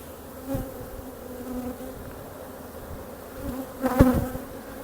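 Honeybees buzz around an open hive during an inspection, a soft, steady hum with a few individual bees droning louder as they pass close by.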